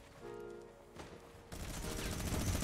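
Gunfire from a Fortnite Battle Royale match: a muffled stretch of shots gives way to a louder, dense burst of rapid fire in the second half, with a brief sharp crack in the middle.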